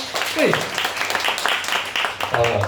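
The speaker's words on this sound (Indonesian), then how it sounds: "Kasih tepuk tangan buat Tuhan." A church congregation claps together during a worship service, a dense near wash of hands sustained throughout, with a voice and some musical tones sounding over it.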